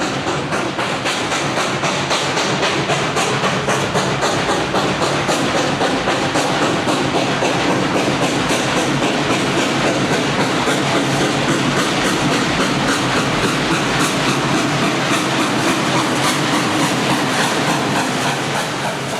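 A heavy train hauled by an Alco 060 diesel locomotive rolls past steadily, with a constant loud roar of the diesel engine and repeated clickety-clack from wheels over rail joints.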